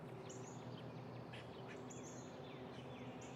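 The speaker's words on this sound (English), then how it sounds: "Northern cardinal." A Northern cardinal at a backyard bird feeder on a spring morning in Indiana gives several thin, high whistled notes at intervals over a steady, dense background hiss.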